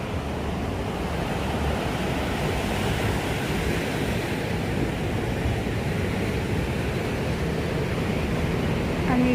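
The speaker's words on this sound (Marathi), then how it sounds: "हा समुद्रकिनारा." Indian Ocean waves wash onto the beach at Matara in southern Sri Lanka in a continuous, broad roar of surf, with no voices.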